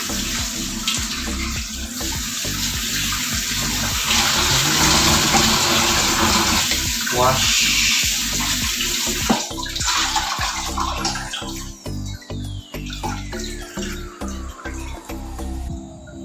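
Water runs steadily from a tap with splashing and rinsing sounds as cabbage is washed underneath, the flow loud and continuous before becoming choppier.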